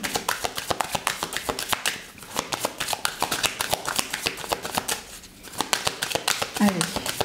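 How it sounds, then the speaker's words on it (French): Tarot cards are shuffled and drawn for a reading, giving a rapid, close run of crisp riffling snaps. The snaps pause briefly twice, and a voice talks over them. "C'est parti, on va tirer 2 cartes."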